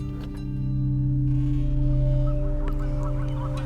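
Geese honking steadily and loudly over a continuous low droning background, with no voices.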